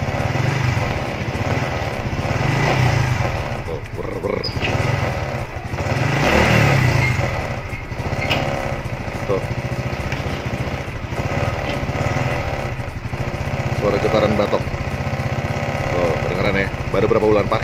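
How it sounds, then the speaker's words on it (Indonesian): Plastic headlight fairing on a 2022 Honda Supra X FI motorcycle rattles and buzzes steadily over the running engine, close and loud, with brief louder swells and some talk over it. "Dan ini suara getaran batok dari sekitar sini kayak gini nih"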